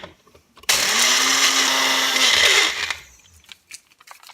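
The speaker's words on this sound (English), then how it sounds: "And in a hand blender." A hand blender whirs loudly for about two seconds, grinding dry breadcrumbs with a rough, gritty roar, then winds down into a few light rattles.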